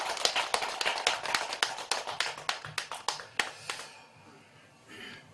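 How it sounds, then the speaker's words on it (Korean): A small group claps at a Buddhist temple service, sharp, uneven individual claps close by, which thin out and stop after a few seconds, leaving near silence. "우리 총무보살한테 박수 한번 쳐주시죠"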